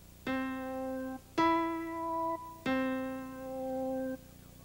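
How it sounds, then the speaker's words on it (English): An Ensoniq TS synthesizer sounds three separate sustained keyboard notes, each held about a second with a clean, harmonically rich, organ-like tone and short gaps between them, in a quiet room with no talking. "Play a few notes on the keyboard."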